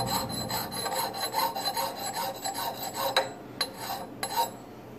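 A file rasps back and forth, setting a secondary bevel on a wedge axe blade. Close, continuous scraping strokes repeat steadily, with a few sharper metallic scrapes near the end.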